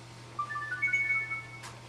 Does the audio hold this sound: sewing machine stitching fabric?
no